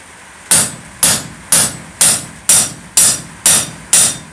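A hammer strikes a rivet set to form a cold rivet, eight sharp metallic blows in a steady, even rhythm about half a second apart, close and loud with no talk.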